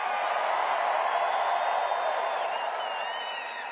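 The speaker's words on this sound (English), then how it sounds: "This crowd is fired up." A fired-up crowd at a Harris and Walz campaign rally in Glendale, Arizona, cheering and applauding in a continuous, dense roar that holds steady before easing slightly at the end.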